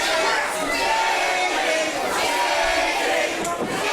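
Crowd at a wrestling event, a dense steady roar of many voices with shouts and cheering swelling slightly, loud and close throughout.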